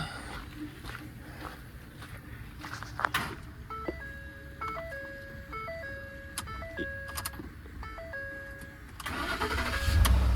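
A Ford F-150 with a 5.0 V8 is jump-started with a Topdon JS2000 jump starter; a brief crank and engine catch come through amid clicks and beeps, with the engine rumbling louder near the end.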